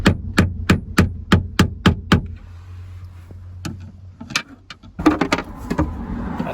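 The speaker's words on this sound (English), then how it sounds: "So get a screwdriver or a lever and tap." A screwdriver hammers at the fuel pump sealing ring on a Jaguar XF's in-tank transfer pump, with eight sharp evenly spaced metallic taps, a brief pause, then scattered louder knocks and scraping as the ring comes loose.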